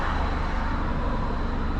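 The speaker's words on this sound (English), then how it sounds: "I just had to stop talking because the car was going by. It was too loud." A car drives past outdoors, a steady broadband road rumble with strong low-end engine and tyre noise that holds at a fairly loud, even level throughout, with no voices.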